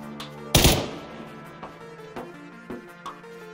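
A single loud gunshot in first-person PUBG, a sharp close crack followed by a few fainter thuds and clicks over a steady game-music drone.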